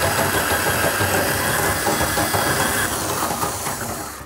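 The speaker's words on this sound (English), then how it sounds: "We're gonna stick this auger all the way down to the P-trap so that it can get down anything that escaped the tub drain." A drain auger is fed down a bathtub drain toward the P-trap, making a loud, close, rumbling scrape and hiss that fades slightly toward the end.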